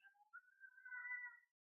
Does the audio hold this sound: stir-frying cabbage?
no